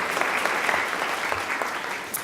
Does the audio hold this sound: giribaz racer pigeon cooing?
no